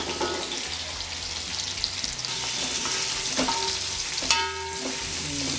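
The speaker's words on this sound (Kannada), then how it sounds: "ಈರುಳ್ಳಿನ ಸ್ವಲ್ಪ ಕೆಂಪಾಗೋ ತನಕ ಫ್ರೈ ಮಾಡ್ಕೊಳ್ಳೋಣ" Onions and curry leaves frying in a pan for a country chicken pepper fry give a steady, close crackling sizzle throughout, with a few scraping stirs and a brief clink near the end.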